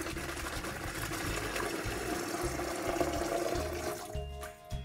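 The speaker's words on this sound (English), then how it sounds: "I'm going to fill a bucket with some cool water" Water pours steadily from a tap into a bucket at an off-grid cargo trailer, a continuous near rushing fill that stays even throughout and thins briefly near the end.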